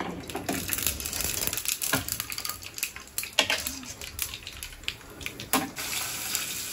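Mustard seeds and cumin sputter and crackle in hot oil, with irregular sharp pops and sizzling bursts close by over a steady frying hiss.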